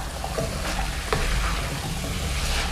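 Mixed vegetables with beetroot sautéing over high heat: a steady, loud sizzle runs throughout, with occasional scrapes and clinks of stirring, and no voices.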